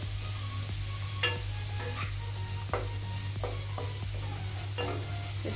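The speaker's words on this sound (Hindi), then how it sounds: "अभी इसको 1 मिनट के लिए ऐसे ही चलाएंगे हम" Bread pieces with sambar powder are stirred in a frying pan, a spatula clacking and scraping against the pan at irregular intervals over a steady sizzle and a constant low hum.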